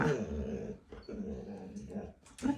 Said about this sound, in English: I knew the barking was going to start soon.